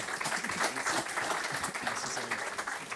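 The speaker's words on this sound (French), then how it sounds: "Applaudissez-le" Audience applauding a conference speaker on unified observability with Data Mesh, a steady dense wash of clapping that carries evenly through the whole stretch with no voices on top.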